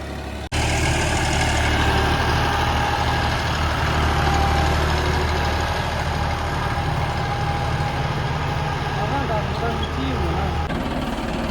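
A heavy tractor engine with a rotavator idles steadily and loudly from start to finish, a deep continuous rumble with a faint higher whine running above it.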